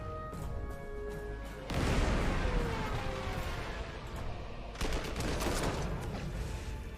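Bombing attack in Panzer Corps 2 at Leningrad: a sudden loud crash of explosions breaks in over a tonal game background, followed by rolling rumble and a second burst of impacts later on.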